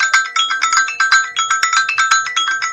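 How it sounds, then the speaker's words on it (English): A cell phone ringtone rings close and loud, a rapid repeating electronic chirp pattern pulsing steadily throughout, with no talking over it. "that's my cell phone"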